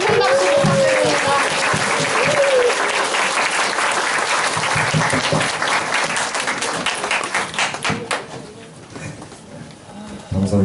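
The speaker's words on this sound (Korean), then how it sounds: "큰 박수 부탁드립니다" Loud, sustained applause from a school audience of middle school students greeting a visiting party leader, dense clapping filling the room for most of the span, with some voices mixed in before it thins out toward the end.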